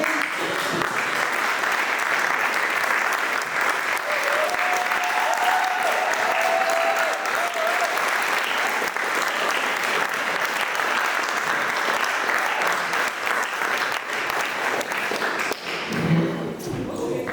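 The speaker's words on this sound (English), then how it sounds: "let's give a very warm round of applause to our 3" Audience at a talk in Mullumbimby breaking into sustained, dense applause that stays loud and even for the whole stretch, thinning slightly just before the end.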